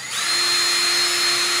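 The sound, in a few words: drill boring into wood at 90 degrees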